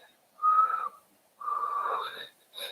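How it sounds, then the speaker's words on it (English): Someone attempting to whistle and mostly producing breathy, airy hisses, two longer wheezy blows followed by a short third puff, close and fairly quiet, with no talking. "I whistle better than you. No, I'm horrible at"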